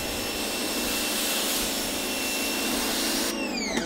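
A pressure washer runs steadily with a loud, continuous high-pitched motor whine and hiss from start to finish, and the tone shifts abruptly near the end; nobody speaks.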